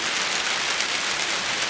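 Rain begins to fall in rural Colombia after two weeks of hot, dry weather. It makes a steady, even hiss of drops on surfaces, close and fairly loud, with no voices.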